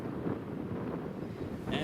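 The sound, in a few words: wind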